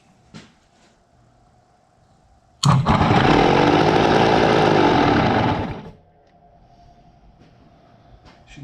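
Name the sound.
1973 Yamaha AT3 motorcycle engine starting and running on starter fluid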